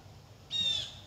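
A single harsh goose call rings out once near a property, brief and fairly clear against a quiet background.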